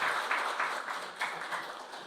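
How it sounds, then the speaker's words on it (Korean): Applause from the audience at the launch ceremony of a national assembly regional balanced development forum: a steady, moderately distant wash of clapping that holds evenly for about two seconds with no talk. "네, 뜨거운 박수 부탁드리겠습니다"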